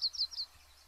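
Yellow-rumped warbler song: a few quick, high, thin chirping phrases packed into the first half-second, fairly faint and heard alone before fading into quiet.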